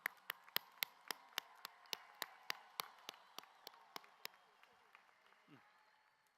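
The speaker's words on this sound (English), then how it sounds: "Let's give them a round of applause." Sparse, evenly spaced claps at a university graduation ceremony for science and mathematics graduates, sounding like only a few hands, faint and distant, slowing and thinning out over several seconds.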